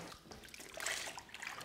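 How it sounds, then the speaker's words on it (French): Tomatoes rinsed under running tap water before going into a tomato press for coulis and juice; a steady trickle and splash of water hisses over the fruit throughout, fairly soft and continuous with brief brighter splashes. "Donc là je vais rincer mes tomates."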